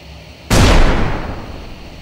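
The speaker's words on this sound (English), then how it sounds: "And then the fire exploded and it became larger." A sudden loud fire explosion bursts in as a story sound effect, a single booming blast that swells and slowly fades over the following second and a half.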